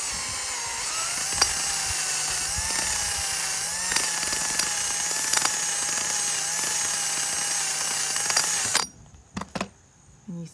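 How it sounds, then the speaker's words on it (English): A drill spins a rubber wheel across an RV's exterior to strip away excess caulking, making a steady high-pitched whine under light pressure that holds for about nine seconds before cutting off into a few soft knocks. "you see how it just comes off really easily with that rubber wheel"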